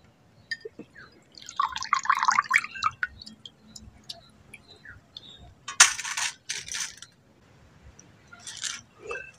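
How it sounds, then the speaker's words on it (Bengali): Washed raw rice strained through a sieve, water dripping and trickling in short bursts with small splashy clatters, close and fairly quiet. "দেখুন, এবার আমি চালটাকে এখন ছেঁকে নেব।"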